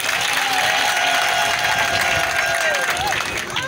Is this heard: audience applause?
yes